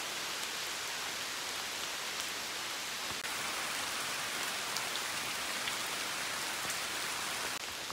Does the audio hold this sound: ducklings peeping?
no